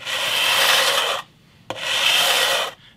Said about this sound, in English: what I'm going to do now is switch to some 180 grit on this leveling beam